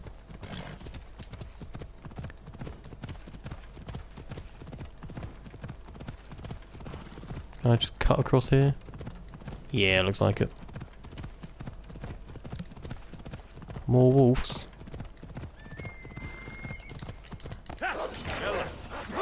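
A horse's hooves clip-clop in a steady, rapid rhythm throughout Assassin's Creed Odyssey gameplay, with occasional louder effects and someone talking over the galloping.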